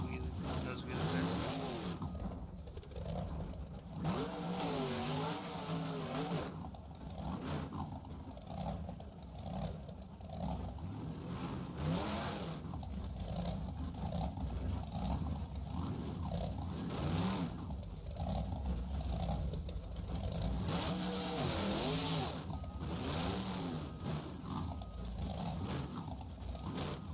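At an indoor arena motorcycle stunt show, bike engines rev and rise and fall continuously through wheelies, heard from a distance with crowd noise and an announcer's voice mixed in.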